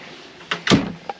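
A bedroom door in a 2022 Morelo Loft luxury motorhome is moved, giving a short slide and a solid thud followed by a small click, close and fairly loud.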